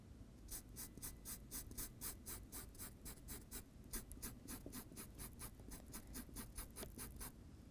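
Pen or brush applying silk colours onto silk fabric, a soft, rhythmic scratching of repeated strokes close by, quiet and steady with no voices.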